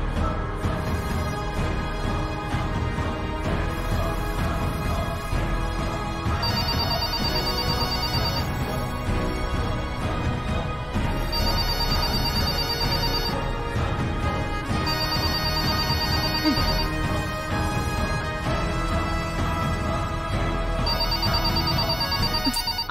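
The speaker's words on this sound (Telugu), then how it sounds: "ఈ ఫోన్ ఒకటి అనవసరమైన టైంలో మోగుతుంది. ఫోన్ రింగ్ అవుతుంది, ఎవరు ఫోన్ తీయట్లేదు." A telephone rings on and off without being answered, its tonal ring bursts repeating at regular intervals over a steady dramatic music bed.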